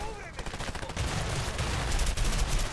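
Shotgun blasts and other gunfire ring out in the video game A Way Out, a dense run of loud overlapping shots with a voice audible underneath.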